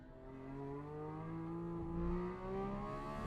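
Porsche 911 race cars, including a 991.2 GT3RS, accelerate on a track, a faint engine note climbing steadily in pitch as revs build, heard from inside a car with a low rumble beneath.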